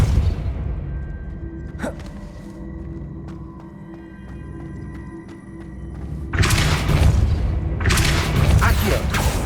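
Depulso repelling spell cast in Hogwarts Legacy: a sharp thump early on, a ringing, mechanical tail, then a loud, broad whooshing blast that fills the last few seconds.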